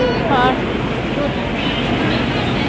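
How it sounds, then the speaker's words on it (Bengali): The Darjeeling Mail pulling into a busy station platform, a steady broadband rumble of the arriving train with someone talking briefly over it. "এই আমাদের ট্রেন দার্জিলিং মেল চলে এসছে।"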